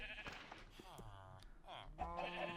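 Sheep in the Minecraft video game bleat several times in quick succession, fairly loud and close, overlapping one another while someone talks over them.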